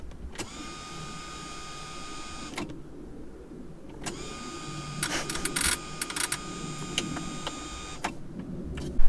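A small motor in a failed Porsche 944 interior air temperature sensor whirs with a high, steady whine in bursts, stopping and restarting, accompanied by clicks and rattling up close.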